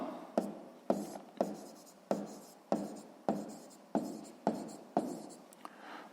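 Pen strokes writing out a math answer by hand on paper: about ten crisp, regular scratches, close and fairly quiet, with nothing else in the background.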